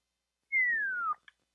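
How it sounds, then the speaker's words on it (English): One human whistle sliding steadily downward in pitch for just over half a second, clear and close with nothing else around it, followed by a tiny click. "I'm sure that whistling was horrible."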